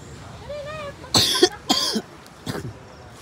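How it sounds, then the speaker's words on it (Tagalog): Three harsh coughs in quick succession from a man with a cough of about three days, close and loud, preceded by a brief faint voiced sound. "ako po ay inuubo po dito"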